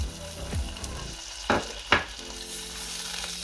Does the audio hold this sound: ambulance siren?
no